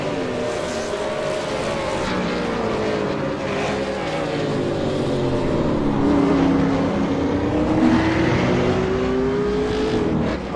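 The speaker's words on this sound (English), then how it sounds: "We'll go to Wayne Hewitt just starting a hot lap" A V8 Supercar on a hot lap at Twin Ring Motegi: a loud engine whose pitch rises and falls through the gears as it accelerates and brakes, sustained for the whole stretch with no talk.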